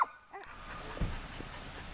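A dog on a lakeside hiking trail at French Creek gives a brief whimpering yip, then quieter fidgeting noises follow against faint outdoor ambience.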